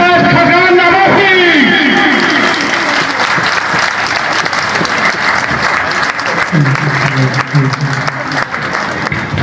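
A crowd at a tribute gathering for Senator Mushahid Ullah Khan applauds loudly and continuously as former Pakistani prime minister Shahid Khaqan Abbasi is introduced, with an announcer talking over the sustained clapping.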